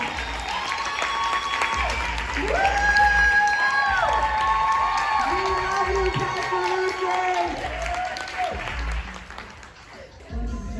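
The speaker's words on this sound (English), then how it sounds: "Stand up and give her a round of applause." A standing audience at a health and wellness summit keynote applauds and cheers, with whoops and shouted voices over steady clapping that carries on at full volume for about ten seconds before tapering slightly.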